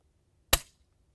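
A single sharp rifle shot fired with a smooth trigger pull at an indoor shooting range, one loud close crack with a brief decaying tail, otherwise silence.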